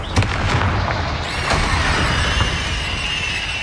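The Confringo spell from Hogwarts Legacy goes off as a loud, close blast, with booming bursts and crackling debris over constant game noise.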